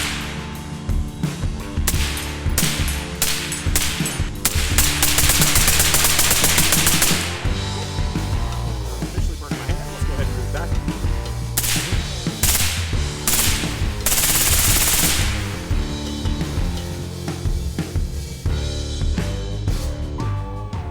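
An airsoft gun empties a fresh magazine in rapid, close bursts of sharp cracks, sustained strings of fire broken by short pauses, with no talking.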